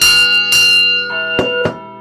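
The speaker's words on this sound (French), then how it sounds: "avec ma copine la vache, qui a une cloche qui teinte, de teinter sur la cloche" A cow's bell rings in several clear metallic strikes with long shimmering decay, some strokes overlapping, close and loud with no voices.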